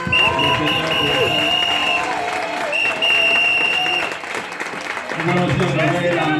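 A church congregation claps and cheers together, with sustained applause running throughout alongside music and a voice.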